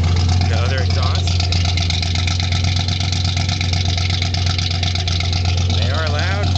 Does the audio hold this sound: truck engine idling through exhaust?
yes